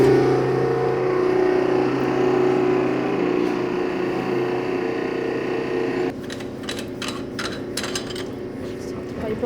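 A tanker truck pumping out its load on a farm, a steady droning pump and engine hum that runs throughout, with a rattling, fluttering change partway through.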